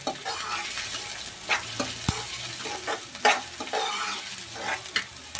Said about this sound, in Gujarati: અને હવે આપણે એડ કરી દઈશું કાંદા। અને કાંદાને આપણે છોડવી નાખશું।